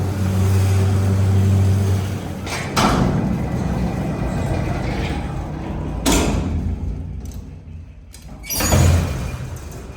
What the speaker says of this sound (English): This is a nice enough motor that I will give one more ride.